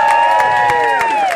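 A concert crowd at a live punk rock show at Ex Caserma Occupata cheers loudly for the band, with sustained shouts and whoops that slide in pitch, close and energetic throughout the brief burst.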